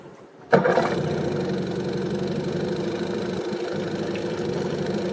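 A two-stroke outboard engine on a CraigCat boat starts abruptly after a moment of quiet, then settles into a steady, even, quiet idle that runs on without change.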